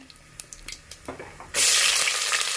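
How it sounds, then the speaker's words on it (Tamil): Whole spices such as cinnamon fry in oil, with quiet crackles and pops that burst into a loud, dense, continuous sizzle halfway through, close and with no voices. "அப்புறம் பட்டை எல்லாம் போட்டாச்சு இப்போ எல்லாம் நல்லா பொரியட்டும்"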